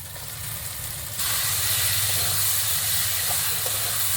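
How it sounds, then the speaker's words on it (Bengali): Fried Bombay duck fish added to a pan of cooked spices gives a loud, steady hiss and sizzle that jumps in intensity partway through and then holds constant, close and without talk. "এরপরে আমি ভেজে রাখা লোটে মাছটা দিয়ে দেব।"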